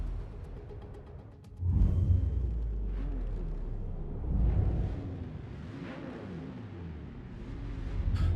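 Race car engines roar at the start of a Forza Motorsport race, surging suddenly into a loud low rumble, then holding a steady drone with rising swells as the cars accelerate.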